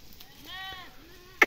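Sheep bleat during a move of livestock along a path, one drawn-out wavering bleat close by with another fainter call, followed by a sharp short knock.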